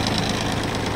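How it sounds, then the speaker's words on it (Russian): A Kubota Aste A-175 tractor engine rumbles steadily up close, its low knocking diesel throb filling the whole short stretch without any voices. "Обороты тоже набирает плавно и скидывает обороты плавно."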